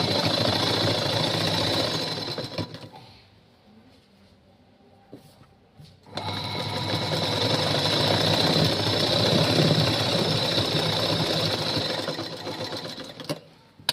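A sewing machine stitches a blouse neckline in rapid, loud mechanical runs, stopping for about three seconds of quiet handling midway before the whirring stitching resumes and carries on to the end.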